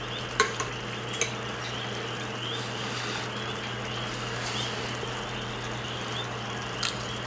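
Meat filling for spicy cassava meat fritters simmers uncovered in a pan, giving a steady soft sizzle with a low hum underneath and a few brief clinks of stirring near the start and end, with no talking.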